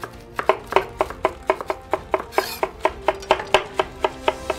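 A knife chops vegetables on a chopping board in quick, sharp, evenly spaced knocks, about four per second, close and loud with no speech.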